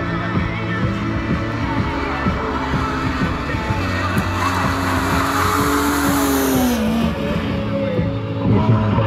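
A BMW E36 drifts with loud, sustained tire squeal sliding in pitch over a roaring engine at close range, the screech bending and fading as the car slides through a drift competition run.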